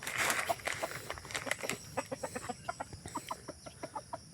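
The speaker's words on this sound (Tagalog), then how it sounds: "kain na yung manok ni Krishna" Chicken clucking steadily while feeding on a farm, a run of short rhythmic clucks close to the microphone, starting amid rustling and settling into an even pecking pattern.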